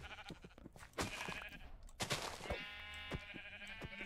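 Sheep bleat in a video game, several wavering bleats overlapping in close succession, interspersed with sharp clicks and thuds from the game.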